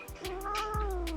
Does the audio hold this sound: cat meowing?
yes